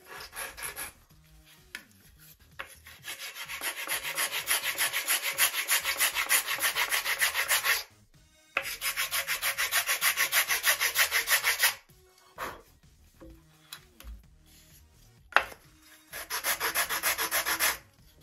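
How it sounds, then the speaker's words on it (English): Sandpaper rubbing back and forth over the sheeted balsa wing of a .60-size Top Flite P-60E Warhawk model plane, in long steady rhythmic bursts separated by short pauses, close and fairly loud. "And then we'll just sand it."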